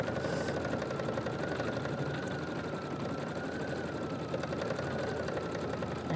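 An embroidery machine stitching a continuous quilt design hums steadily with a fast, even mechanical whir and rapid needle ticking, unbroken and moderately quiet throughout.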